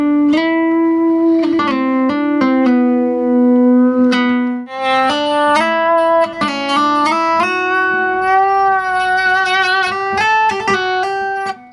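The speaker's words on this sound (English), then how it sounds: "I've never really seen an E-bow used on an acoustic, and I've never tried it out before" An E-bow sustains strings on an acoustic guitar, producing long, smooth singing tones that glide between pitches, with a dense melodic line of held and shifting notes rising higher over about twelve seconds.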